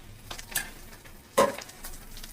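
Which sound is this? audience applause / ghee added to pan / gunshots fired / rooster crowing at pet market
ghee added to pan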